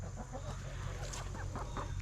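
Chicken clucking steadily while pecking at rabbit food on a rainy farm during feeding chores, a continuous bed of low animal and barnyard noise underneath.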